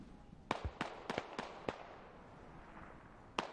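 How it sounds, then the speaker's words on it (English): Mortar rounds detonating in the military shooter Squad, a rapid string of five sharp, fairly distant blasts over about a second, then a lull and one more impact. "mortars are gonna get called in, I think, on Chicken and Oddball's position"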